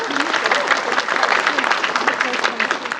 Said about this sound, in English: let us give him a welcome applause to our resource person